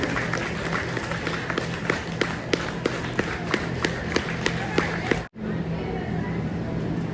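Audience at a ceremony clapping in steady, evenly spaced claps over a murmuring crowd, then breaking off abruptly.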